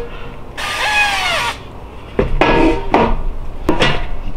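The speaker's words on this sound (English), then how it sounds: "we need to spray the pans" A bright hissing burst of cooking oil spray for about a second, followed by a few short sprays mixed with clattering knocks of air fryer pans.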